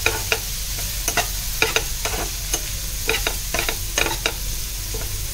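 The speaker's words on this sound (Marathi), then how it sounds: "तर हे छान कांद्यामध्ये परतून घेते" Onions sautéing with turmeric, cumin and coriander in a pan over medium-high heat, a continuous sizzle punctuated by frequent rhythmic scraping strokes of a spatula stirring close up.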